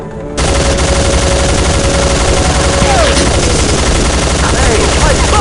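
Sustained automatic gunfire from a rebel encampment firefight in the video game Soldier of Fortune 2: Double Helix, loud and dense bursts rolling continuously after a brief quiet lead-in, with shouted voices mixed into the din.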